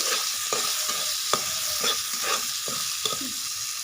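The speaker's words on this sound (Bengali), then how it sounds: "পটলটা একটু ভাজা ভাজা করে নিয়ে নিয়েছি" Pointed gourd with slit green chillies sizzles steadily in hot oil while a spoon stirs and scrapes the pan in regular clacks, with nobody talking.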